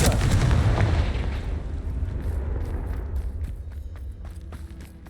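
A Confringo fire spell blast in Hogwarts Legacy, heard as a loud booming burst at the start that rumbles and slowly fades into a low roar, with scattered faint clicks and rustles as it trails off.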